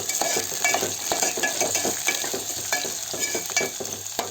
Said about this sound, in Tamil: இப்போ இதெல்லாம் சேர்த்து நம்ம நல்லா வதக்கி விட்டுடலாம்